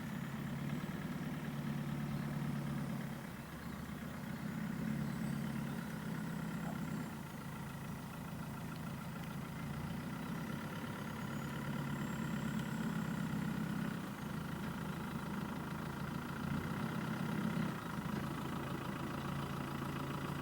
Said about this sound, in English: I'm going to try and reverse in and sort of parallel park in through this gap